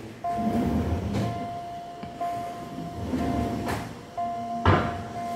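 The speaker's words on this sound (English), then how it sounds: "these are the big gigantic drawers provided over here, very smooth in operation with soft closing" Large, smooth-running drawers in a premium Gurgaon builder-floor home open and shut several times, each stroke ending in a soft-close settle, with clear rolling slides and muffled thuds at an even pace, fairly close and with no talk.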